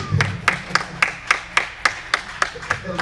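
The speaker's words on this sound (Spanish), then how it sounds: "Un aplauso fuerte a Cristo," A church congregation claps in a steady rhythm, about ten sharp, evenly spaced claps close by, with faint voices underneath.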